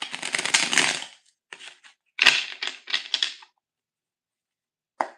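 A deck of tarot cards being shuffled in short riffling bursts, a longer run at first then several brief clustered flurries, close and crisp, ending with a single quick snap.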